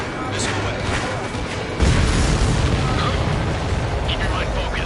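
A missile launch followed by a heavy explosion in a video game, a loud continuous roar that swells into a deep boom, with voices speaking over it.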